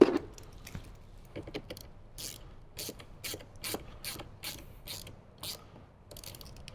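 A ratchet tightens the battery terminal nut on a 2007–2018 Jeep JK Wrangler during an amplifier kit install, making quick bursts of close, crisp clicking in short uneven strokes with brief pauses between them.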